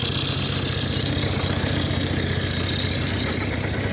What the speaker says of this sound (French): excusez pour les bruits de moteur